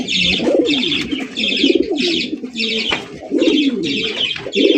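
Red Sirazi pigeons coo close by in steady, repeated throaty phrases, rhythmic and fairly loud, with several birds overlapping almost without pause.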